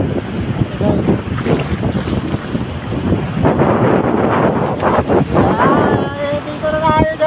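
Strong sea waves roll and wash at Santa Ana, Cagayan, heard up close under heavy, constant wind buffeting on the microphone, with a faint voice rising near the end.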